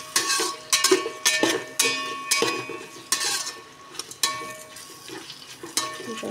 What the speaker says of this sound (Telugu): క్యారెట్, బంగాళదుంప కొంచెం ఫ్రై అవ్వాలండి.